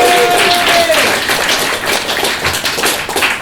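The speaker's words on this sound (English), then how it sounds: "Let's give Sam a round of applause." Audience applause at an improv theatre show in Glasgow: brisk, dense clapping from a small crowd, close and steady, with a brief voice at the start.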